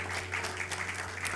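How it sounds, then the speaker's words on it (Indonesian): Steady clapping from a church congregation, a dense patter of many hands continuing throughout at moderate volume, with a low hum underneath. "Berikan tepuk tangan dulu buat Tuhan."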